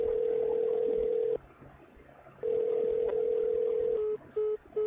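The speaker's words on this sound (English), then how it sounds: "She dials her phone, and to my surprise, it starts ringing" Telephone tone heard over a phone's earpiece after dialing: a steady tone, a pause, the tone again, then a few short repeated beeps, moderately quiet.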